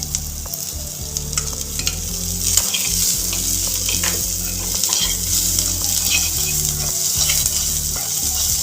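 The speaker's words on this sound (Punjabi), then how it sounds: "ਆਪਾਂ ਹੁਣ ਸ਼ਿਮਲਾ ਮਿਰਚ ਨੂੰ ਵੀ ਥੋੜੇ ਜਿਹੇ ਸਮੇਂ ਲਈ ਭੁੰਨ ਲਾਂਗੇ" Capsicum and green chilli frying in a pan for paneer bhurji, a steady close sizzle with stirring scrapes throughout and no talking.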